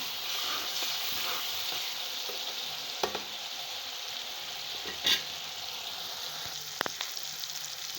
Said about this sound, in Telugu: టమాటా మగ్గిందండి ఇప్పుడు అల్లం వెల్లుల్లి పేస్ట్ వేస్తున్నాను బాగా మిక్స్ చేస్తున్నాను